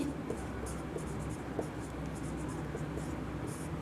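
Chalk or marker scratches across a board during a Class 12 maths lecture on relations and functions, faint intermittent strokes over a quiet room hiss.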